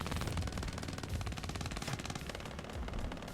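Sustained automatic fire from an MG3 machine gun in the WARNO real-time strategy game, a dense rapid rattle of bursts that stays loud and steady throughout with no talk.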